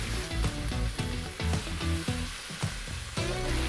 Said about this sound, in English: Now just toss that around until you just kind of see that green color pop.